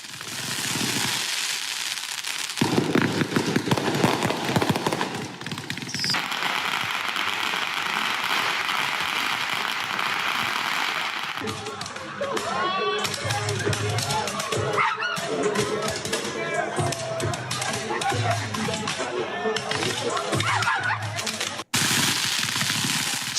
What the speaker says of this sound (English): fireworks that were totally out of control